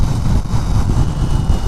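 Engine of a BMW R18 First Edition motorcycle while riding at around 3,200 revs, a steady loud low drone with constant rumble and no talk over it.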